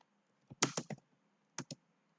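A computer keyboard is typed on in two short bursts, a quick cluster of crisp clicks followed after a pause by two more taps, close and clear with no talking.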